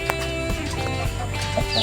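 A rooster clucks in a coop, giving a few short low calls against a steady background of farmyard noise and faint knocks.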